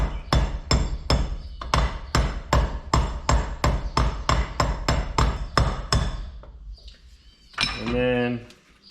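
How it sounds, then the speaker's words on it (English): Hammer blows tap a bearing race into a trailer hub in a steady run of about sixteen close, ringing metal strikes, followed by a brief scraping rattle. "I'm gonna tap it on, get it started with the hammer"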